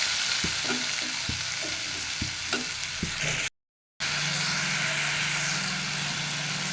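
Curry being stirred and fried in a pan with a little water added, with several sharp scraping taps of the spoon early on over a steady sizzle, a brief cut, then a continuous hissing fry.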